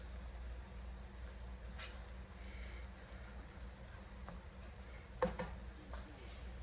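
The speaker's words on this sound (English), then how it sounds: "I'm gonna sweat the onion" Chopped onion sweats in a pan for scalloped potatoes, giving a soft, steady low sizzle with a faint background rumble and one brief sharp clatter near the end; nobody speaks.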